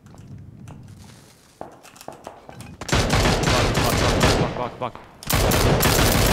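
Bursts of rapid automatic gunfire and scattered single shots from a shooter video game, loud and dense, with footsteps and a player's voice between volleys.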